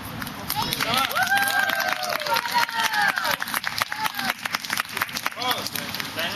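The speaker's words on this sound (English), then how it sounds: "Applause. Come on." Applause for a juggling act at a school event, scattered clapping and cheering from a lively crowd, mixed with children's voices and chatter close by.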